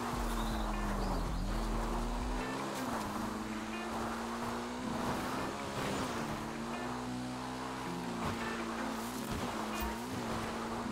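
A motorbike in GTA Online rides across an island, its engine droning steadily and wavering in pitch as it revs up and down through the whole stretch, with no talk over it.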